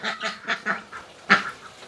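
Ducklings quack nearby in a quick irregular series of short calls, pausing briefly before one louder quack and a few softer ones trail off.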